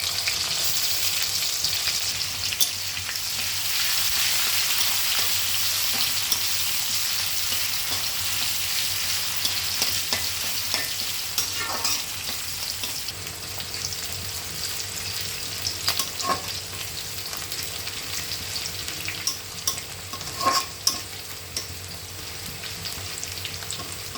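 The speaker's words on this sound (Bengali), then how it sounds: "এগুলো ভালো করে ভেজে নিয়ে" Chopped garlic and onion fry with fenugreek and cumin in hot oil, producing a loud, steady sizzle with occasional stirring knocks and scrapes of a spoon in the pan.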